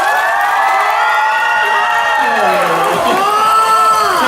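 A crowd shouts and cheers at the stage show on the final night of the OTOP four-region fair in Nakhon Phanom, with sustained massed voices and excited whoops filling the whole stretch at close, loud range.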